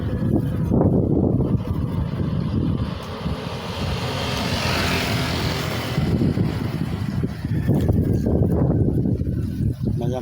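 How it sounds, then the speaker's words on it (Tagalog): Wind gusting steadily around the microphone outdoors in Cabuyao on a cold, drizzly day, with a loud broadband rumble throughout that swells and eases in strength. "Malamig ang simoy ng hangin ngayon"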